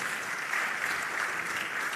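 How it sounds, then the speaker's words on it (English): Audience at the Africa Retail Congress 2023 claps for an introduced speaker, a brief, soft, even patter of many hands heard from a distance. "Can we clap, please?"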